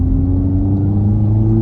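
A car engine in a manual-transmission car hums loud and close during a brief rev-matching blip on a downshift from third to second.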